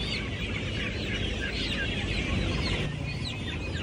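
Chickens and roosters at a busy hen market in Vellam, with dense overlapping clucks and chirps holding steady at a moderate distance over a constant murmur of market noise.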